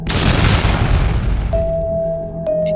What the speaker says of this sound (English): the envelope exploded.